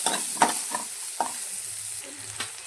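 Ingredients for bitter gourd masala curry frying in a little oil, a close steady sizzle broken by several spatula stirs and scrapes, no talking.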